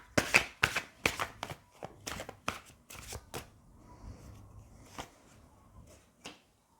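Tarot cards shuffled and laid out for a weekly divination reading, a run of sharp riffling snaps for the first few seconds, then scattered softer card slaps and taps close by, with no talking.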